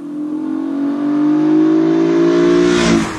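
A 2006 Honda Accord Coupe V6 revs hard and climbs steadily in pitch, a loud, smooth engine tone building for about three seconds, then easing off sharply at the end.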